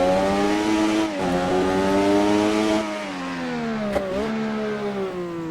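Formula 1 car lapping Suzuka in Assetto Corsa, a loud, close, high-pitched engine whine holding steady and rising, then briefly dropping and climbing again through gear changes, with no talking.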